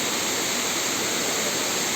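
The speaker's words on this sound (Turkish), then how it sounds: "Su sesi zaten geliyordur sizlere kadar." Güzeldere waterfall in Düzce, its water rushing in a steady, dense roar, broadband and unbroken, close and constant with no voices.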